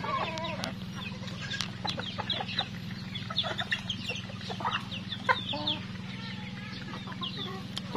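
Rhode Island chickens crossed with native birds cluck on a farm, many overlapping calls and short squawks scattered throughout over a steady low hum, with no one talking.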